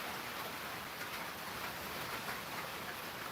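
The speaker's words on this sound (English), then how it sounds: "It's starting to rain a little heavy here, so if my voice gets overpowered by the rain, somebody let me know." Heavy rain falls outdoors as a steady, dense hiss that stays even throughout, close and loud, with no voices.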